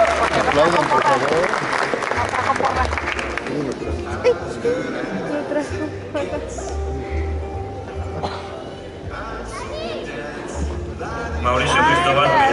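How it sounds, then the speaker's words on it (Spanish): Graduation audience applauds amid crowd chatter and hubbub, a loud mixed wash of clapping and voices filling the hall, with scattered calls over the din. "Aplaudan, por favor."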